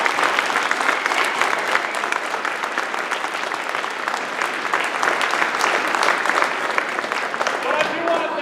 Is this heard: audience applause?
yes